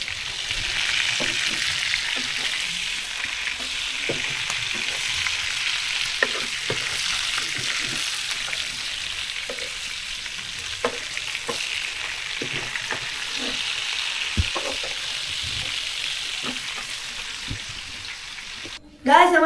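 Lobster prawns fry in hot oil, a continuous close, loud sizzle with scattered pops and utensil scrapes as they are turned, ending in an abrupt clatter.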